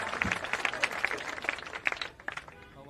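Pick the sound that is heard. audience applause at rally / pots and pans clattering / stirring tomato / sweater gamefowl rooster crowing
audience applause at rally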